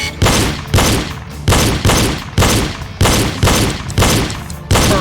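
Pistol gunshots fired at targets on a pistol range, a steady run of loud, sharp reports roughly every half second to second, each with a short ringing tail, with no talk.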